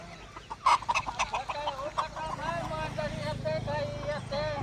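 Several chickens and roosters cluck and cackle close by on a semi-free-range farm, a loud burst of calls early on followed by steadier clucking, with a voice talking faintly underneath.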